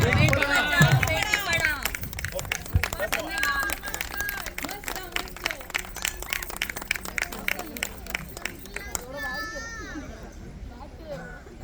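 Scattered clapping from a family group at a cousins' reunion, uneven and crowd-like, with children's voices and chatter mixed in.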